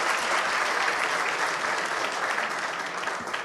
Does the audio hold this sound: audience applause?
yes